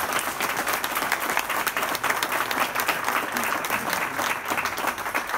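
Steady, dense applause from a conference audience fills the whole stretch, many hands clapping at once with no pauses.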